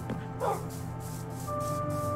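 A Minecraft dog gives a brief, fairly loud bark near the start, over steady electronic game tones that carry on throughout with no talking.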